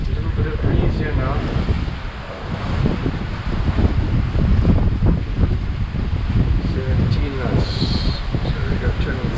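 Breeze blows at sea after a squall, gusting and buffeting the microphone over rushing water, loud and close, with a person talking through it.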